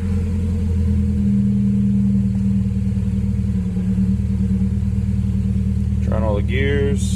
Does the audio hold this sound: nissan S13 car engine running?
yes